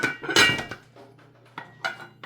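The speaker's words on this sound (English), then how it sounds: "So now turn the fire back on really low and cover it up again" Metal lid set onto a cooking pot for a Gambian thiébou narr, a cluster of close clanks and rattles followed by a couple of lighter clinks as it settles.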